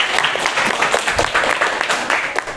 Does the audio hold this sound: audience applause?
yes